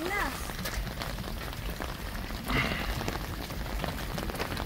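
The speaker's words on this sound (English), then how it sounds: "rain, go away. The rain, go away, rain." Steady rain falls at a railway heritage museum, a constant close hiss of drops pattering on surfaces throughout, with a brief voice at the start.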